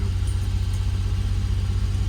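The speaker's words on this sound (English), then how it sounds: "It idles great, but as soon as you put it in gear" Ford Pinto engine idling with a steady low throbbing pulse, close and continuous, running alone without voices.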